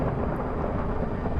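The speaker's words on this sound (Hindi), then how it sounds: "बारिश लगी क्या बाहर?" Thunder and heavy rain in a survival video game form a dense, continuous roar of rumble and downpour with no breaks.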